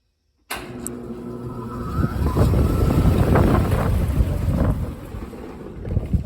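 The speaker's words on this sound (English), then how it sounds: "That is such a cool noise of the thing starting up" A 2014 Maratherm air conditioner starts up with an abrupt onset, then a low, rumbling mechanical drone that builds after a couple of seconds and holds steady and loud, with whooshing airflow noise and no talk.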